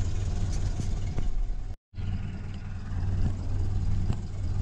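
A 1930 Ford Model A engine runs with a steady, low, close rumble throughout, broken by one brief cut to silence near the middle.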